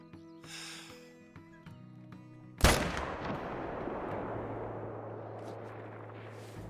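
A single loud, sharp rifle shot fired at a deer in the hunting game Call of the Wild, after a stretch of quiet ambience, followed by a long rolling echo that fades slowly with a low hum underneath.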